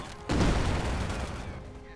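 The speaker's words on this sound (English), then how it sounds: "Plastering with bullets there" A burst of gunfire erupts in a Men of War battle, a rapid volley of shots followed by a rumbling, fading tail of further fire at moderate distance.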